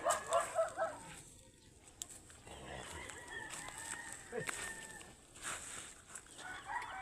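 Farmyard chickens cluck and a rooster crows faintly at a distance, scattered calls rising over a soft outdoor background with light murmuring voices nearby.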